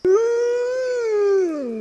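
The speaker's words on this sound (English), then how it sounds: "Wolves." One wolf gives a long, loud, close howl in a mountain setting, a steady tonal cry rising at the start, holding, then sliding down at the end, heard alone without other sounds.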